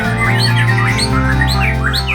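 A caged murai panda magpie robin at a bird breeder's sings a rapid run of bright, whistling chirps and squawky notes, loud and near over a steady low background hum, with no talking.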